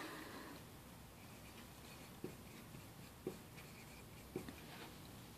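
Pencil or pen writing numbers on a math worksheet, faint scratching strokes with a few soft taps, quiet and close, no voices.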